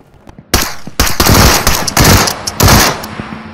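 Automatic gunfire in the VR shooter Into the Radius, loud, close bursts of rapid shots following a few faint clicks, several volleys over a few seconds with no talking.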